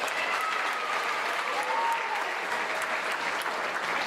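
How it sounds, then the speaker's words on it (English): A standing audience at the Averett University Convocation 2025 claps for Abby Coble, a steady, dense wash of applause filling the hall throughout, with no voices over it. "clap for Abby one more time"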